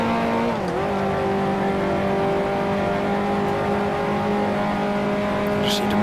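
Race car engine downshifting into second gear on a circuit, heard from onboard as a high steady engine whine that dips sharply at the shift then holds, continuous and prominent.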